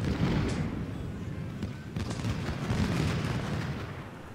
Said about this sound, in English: I think it's okay for our men to maybe start firing on the enemy ships now